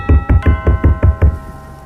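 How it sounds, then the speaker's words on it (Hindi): Loud, heavy knocking on a door for a horror story, seven rapid thuds in a steady rhythm, close and alone with no voices. "जोर जोर से किसी के दरवाजे को खटखटाने की आवाज़"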